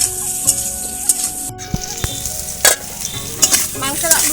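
Potatoes frying in a pan of oil, a loud close sizzle broken by sharp stirring scrapes and clanks of a spatula against the metal, with no one talking.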